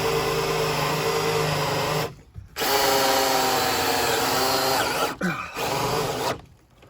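Power drill driving a screw into wood that was not pre-drilled during floor rim joist installation, a loud sustained whine in two long straining runs with brief pauses between, close and alone.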